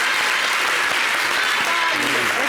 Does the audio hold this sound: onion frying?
no